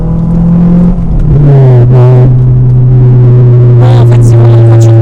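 A Honda S2000 with a V-TEC engine revs hard, its exhaust holding a loud, sustained drone whose pitch steps down and then settles into a steady, powerful tone, close and unbroken with no talking.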